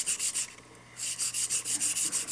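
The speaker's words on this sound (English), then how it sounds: "I usually take a piece of the 400 grit wet sanding paper and just go over it." 400 grit wet sanding paper rubs back and forth over a hand-laid N scale turnout rail, a close, hissy scratch repeating in a quick rhythm of strokes, pausing once briefly before a steady run of rapid passes.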